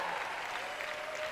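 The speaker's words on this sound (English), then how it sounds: "Give him a round of applause, DJ Mars." Steady applause from a crowd, a dense wash of clapping that holds at an even level, slightly distant.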